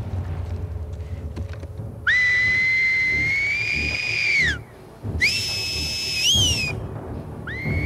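Enemy whistle signals from The Last of Us Part II, three long pitched whistles, the first two sustained for a few seconds each and the last clipped short, over a low rumbling game ambience.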